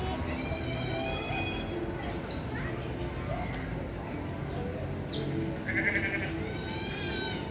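Sheep bleat repeatedly at a farm, with wavering calls at the start and again near the end over a busy outdoor background.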